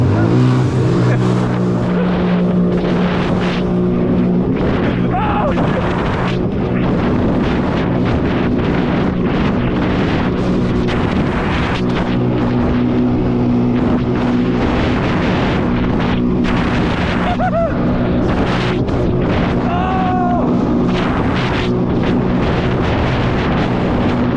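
Jet skis race across open water, their engines droning loudly and continuously with heavy wind buffeting the microphone and occasional rising engine whines as they speed along.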